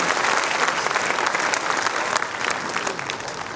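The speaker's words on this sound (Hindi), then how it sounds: "आप तालियों से मेरा समर्थन करिए" An audience at a poetry recital claps loudly and steadily throughout, a dense continuous applause with no voice over it.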